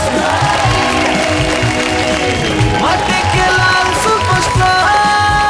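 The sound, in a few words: audience applauding to welcome a performer on a singing show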